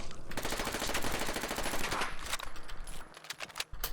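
Rapid automatic gunfire from a weapon in modded Fallout 4, a loud sustained burst of closely spaced shots that thins into scattered reports near the end, with no talk over it.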